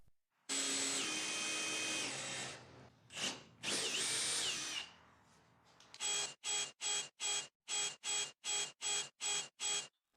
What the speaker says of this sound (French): Je peux ensuite estimer le centre à l'œil, faire quelques marques et commencer à les percer.